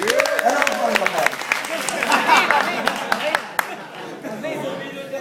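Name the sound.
applause for Michael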